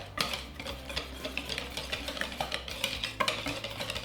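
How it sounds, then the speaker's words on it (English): Applesauce, used in place of oil, gets stirred into a batter in a bowl, a spoon scraping and clinking in a quick steady rhythm, close and fairly quiet, with no talking. "So we'll get this stirred together."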